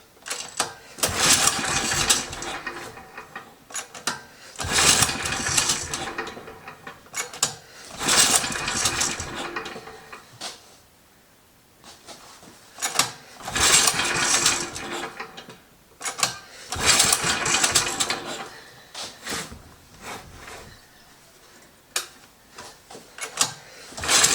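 A Motor Sich MB-6 engine sputtering as it is given more throttle, several loud bursts of rough mechanical running separated by brief quieter gaps, close and uneven.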